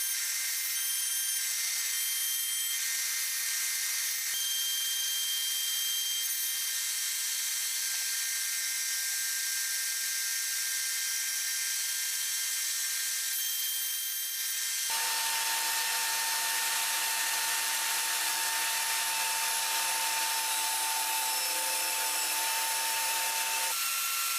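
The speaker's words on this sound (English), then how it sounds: "With my router strapped to the workbench, I can make these cuts." A router strapped to a workbench cuts into thick wood during a homemade circular saw build, a loud, continuous high-pitched whine that shifts to a harsher, lower-edged grind partway through as the bit bites.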